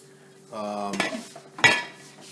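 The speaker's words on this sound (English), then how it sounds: "So we're going to throw the veggies in." Vegetables, including peeled carrots and chayote, go into a pot of short ribs that has been boiling for about an hour: a brief tonal scrape, then two clattering thuds against the pot, fairly close and moderately loud.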